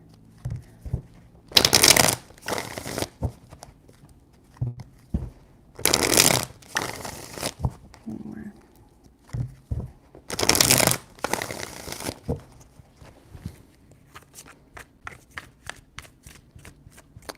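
Tarot cards being shuffled in three separate bursts of crisp riffling and flutter, with quieter handling and light taps between and a run of soft clicks at the end.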